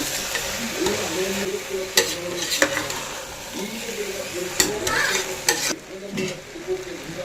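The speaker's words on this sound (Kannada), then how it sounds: "ನಂತರ ಇದನ್ನೆಲ್ಲ ಒಂದು ಸಲ ಚೆನ್ನಾಗಿ ಮಿಕ್ಸ್ ಮಾಡ್ಕೊಳ್ಳೋಣ" Pulao with ordinary rice sizzles in a pan as a spoon stirs it, giving occasional sharp metallic clinks over a steady frying hiss. The sound is close and moderately loud.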